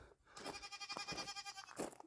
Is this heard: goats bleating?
yes